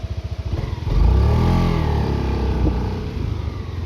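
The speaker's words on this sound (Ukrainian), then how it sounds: "приємно працює двигун." Honda Faze 250 maxi scooter engine idling close by, a low steady throb that swells slightly after the first second and holds loud and even, with no talk over it.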